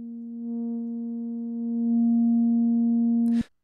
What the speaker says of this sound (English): the sine wave is modulating the frequency.